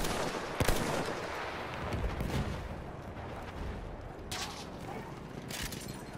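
Gunfire crackles through a First World War battle at Verdun: scattered rifle and machine-gun shots, some sharp and close, others distant, over a constant rumbling battlefield din.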